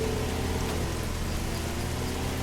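Steady rain in the Schedule 1 video game, a dense continuous hiss of falling drops on surfaces that stays even and fairly close throughout, with no voices over it.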